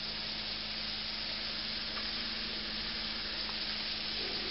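Steady, even sizzling and hissing of walleye frying in a pan, close by and continuous, with no voices.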